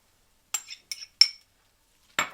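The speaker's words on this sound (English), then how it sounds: "And you want to give that a good mixing." Salmon cake mixture being stirred with Dijon mustard and beaten egg in a bowl: a few separate clinks of a utensil against the dish, close and sharp, with quiet pauses between them.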